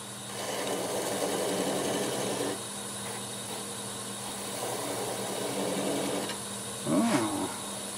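A wood lathe spins steadily as a tool cuts the end off a wooden ornament, a constant motor hum with rough scraping passages and a brief sharper squeal near the end.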